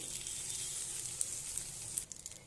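Pasta in a pan sizzles steadily as egg and a little soy sauce are added, a soft, close frying hiss with faint crackles and no talking.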